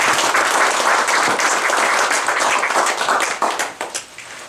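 Members of a club at its 50th anniversary gathering give themselves a strong round of applause, a loud, close wash of many hands clapping that holds steady and then thins into scattered claps as it dies away.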